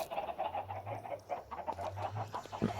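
Chickens on a farm cluck and murmur in a crowded pen, a busy run of soft irregular clucks close by with a low steady hum beneath, no voices.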